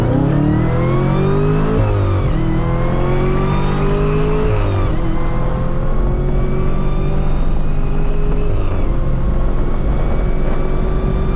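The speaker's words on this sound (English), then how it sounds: "No lift shifting right here." A Camaro ZL1 with a 6-speed manual is driven hard with no-lift shifts, its engine roaring loud and close, pitch climbing steadily and snapping back down at two quick flat-out gear changes.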